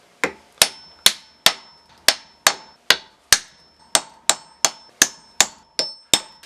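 Sharp hammer blows strike a wood block to drive parts into a Jeep CJ7 T150 transmission casing, about fifteen loud, evenly spaced impacts with a metallic ring, close and without talk.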